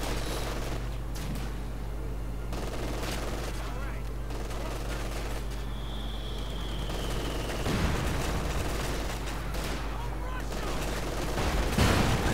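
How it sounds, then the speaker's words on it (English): Machine gun fire crackles in Company of Heroes 2, a dense, continuous battlefield din of rapid gunshots and distant booms running the whole length, with someone talking over it. "The MG over there."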